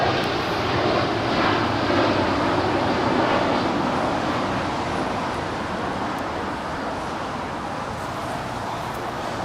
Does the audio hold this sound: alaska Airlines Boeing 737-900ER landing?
yes